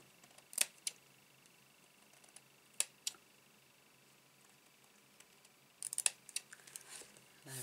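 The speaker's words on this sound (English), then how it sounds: "I'm just going to trim that up a little bit more." Scissors trim paper on a handmade Stampin' Up! Hello Cupcake card in a quiet room, giving faint, sparse snips: a few single cuts early on, then a quick cluster of small clicks near the end.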